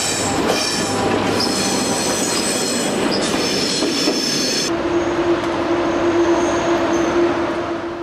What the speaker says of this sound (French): Le Vauban arrive en gare de Luxembourg.